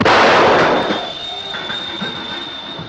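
A gunshot in a film's dramatic confrontation sounds as one loud, sharp blast at the start, trailing off into a lingering rumble and a steady high tone.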